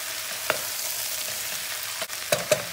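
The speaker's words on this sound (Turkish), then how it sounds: "Hemen bir kere karıştırıyoruz soğanla, yağına, havucuna bir değsin." Leeks stirred into a pot with onions, oil and carrots give a soft, steady frying hiss, broken by a few sharp clinks of the spoon against the pan.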